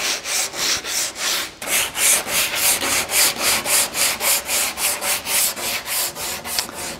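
Sandpaper cloth pulled back and forth along the rail of a handmade wooden 8-foot mini mal surfboard, giving steady rhythmic rasping strokes, close and even, about three per second, with no talk.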